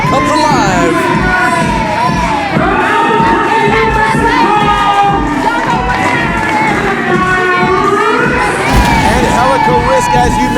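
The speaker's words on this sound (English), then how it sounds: "Angélica Risk making her way out to a hero's welcome here as the crowd comes alive." A pro wrestling crowd cheers and shouts loudly for a wrestler's entrance, with high-pitched yells and whoops over dense continuous roar, a commentator talking over it.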